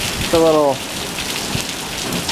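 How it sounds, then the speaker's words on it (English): Thunderstorm with hail, a steady hard patter of hailstones and rain drumming on surfaces close by, while a voice speaks briefly near the start. "thunderstorm, hailstorm. Oh man, look at that hail."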